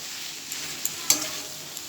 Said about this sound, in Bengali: খুব ভালোভাবে এটাকে নাড়াচাড়া করে নেব।